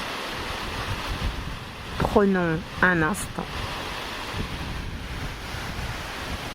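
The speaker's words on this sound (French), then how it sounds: "À travers ce vent que vous pouvez entendre qui souffle" Wind blowing steadily outdoors near the sea, a broad rushing noise buffeting the microphone with surf in the background, and a person speaks briefly over it.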